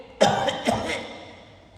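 A couple of harsh coughs close by, with a throat-clearing quality, then a fading silence.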